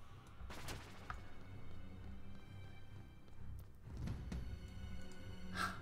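Gunfire from a weapon in the video game Magicka, several sharp shots spread across a few seconds over a steady game background, with a louder burst near the end.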